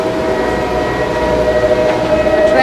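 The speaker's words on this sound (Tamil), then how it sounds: "அங்கே ட்ரெயின் வருது பாருங்க மேலே." A train rumbles past close by above the Rhine Falls in Switzerland, a loud continuous rolling roar with steady tonal hum, the rushing falls mixed in, no talk over it.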